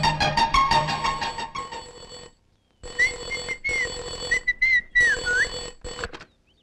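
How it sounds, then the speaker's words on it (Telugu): A telephone rings in a Telugu comedy scene, a repeated electronic ringtone with bursts of trilling tones separated by short silent gaps, loud and close with no talk over it. "ఫోన్ మోగుతుంది"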